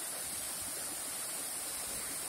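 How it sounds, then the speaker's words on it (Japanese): A powerful waterfall in Iwate Prefecture, Japan, roars as a dense, steady wash of falling water, even and unbroken throughout with no voices. "迫力があって素晴らしい滝です。"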